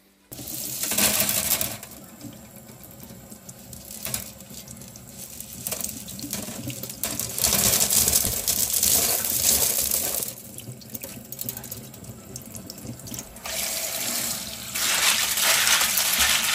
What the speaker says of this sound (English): But I'm using cold water to rinse with